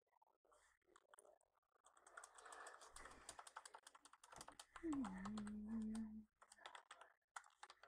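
Quiet, rapid clicks of fingers typing on a computer keyboard, irregular and close, with a voice speaking faintly in the background at times.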